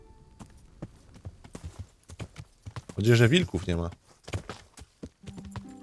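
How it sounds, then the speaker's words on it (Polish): Horse hooves clop in a loose walking rhythm while riding in Kingdom Come: Deliverance, a medieval game. Someone talks over the steps, and a tonal game sound swells briefly in the middle. "Jazda konna"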